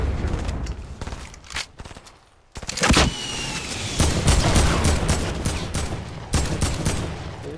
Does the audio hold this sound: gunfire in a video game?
yes